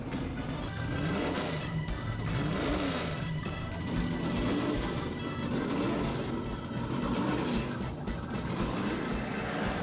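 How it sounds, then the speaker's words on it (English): Roaring pre-1974 historic sports car engines race past at Silverstone, revving and shifting continuously, loud and close, with several cars overlapping in a constant mechanical snarl. "the big, powerful pre-1974 historic sports cars"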